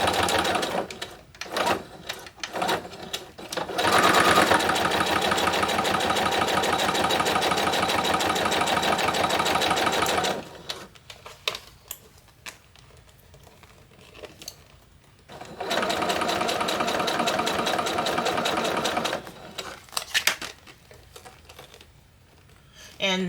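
A sewing machine stitches a Chelsea bag in long, steady runs of rapid mechanical chatter, with pauses and short bursts between them, close and loud while someone talks intermittently.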